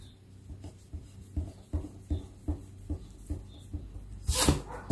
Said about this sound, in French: Donc, je vous fais des petits pointillés.